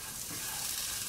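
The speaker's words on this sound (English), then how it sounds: "I'm going to stir them in there. And I'm going to let these cook in here for about 3 to 5 minutes, coating them nicely with the paprika." Caraway seeds and paprika fry in a pan with a soft, steady sizzle and faint stirring, close and quiet over a brief moment.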